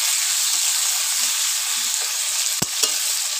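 Large chunks of potato and onion sizzle and fry in oil in a wok, a steady loud hiss throughout, with a couple of sharp utensil knocks against the pan near the end.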